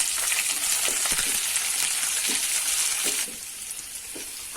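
Thinly sliced shallots and curry leaves sauté in hot oil in a pan, giving a steady, dense sizzle that drops abruptly to a softer crackle about two-thirds of the way through.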